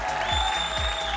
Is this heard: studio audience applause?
yes